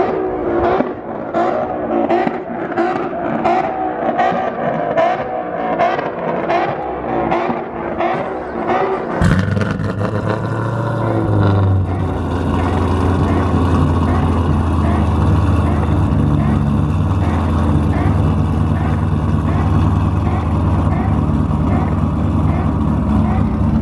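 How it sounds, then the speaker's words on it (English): A car engine revs in a quick series of rising pulses, then settles into a loud, steady, heavy roar that carries on to the end. "revving is not good for your motor."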